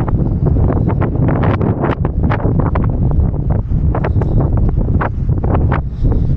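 Loud, continuous wind buffeting the microphone on a dike in Malabon, producing heavy low rumbling and gusty crackle throughout.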